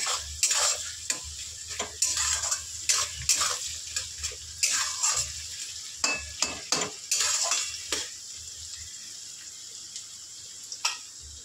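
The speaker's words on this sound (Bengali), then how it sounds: "এখানে মাছ হচ্ছে, নামাবো, প্রায় হয়ে এসছে" Fish frying in a home kitchen pan, with a spatula scraping and clanking against the metal in irregular bursts over a soft, steady sizzle. Nobody speaks.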